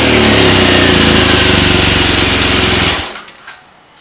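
BMW R1200GS motorcycle, warmed up and in neutral on a ramp, idling loudly up close through its standard exhaust can with a steady throbbing rumble, then cutting off and fading out near the end.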